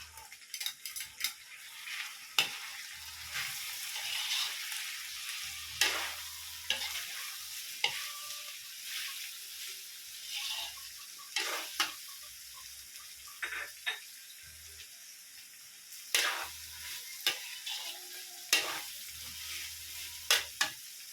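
Liver frying in a pan for menudo while being stirred, a close sizzle broken by frequent scraping and clattering spoon strokes against the pan, no voices.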